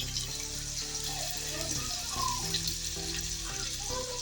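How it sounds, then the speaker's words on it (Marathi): Hand-crushed onion sizzles and fries in hot oil, a steady loud close-up crackle that continues without pause. "तेल टाकून घेतोय हाताने चुरून हा कांदा टाकायचा"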